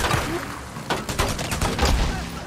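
SMP9 gunfire in a bike chase in the Days Gone video game, a rapid burst of several sharp shots close together over rumbling engine and background noise.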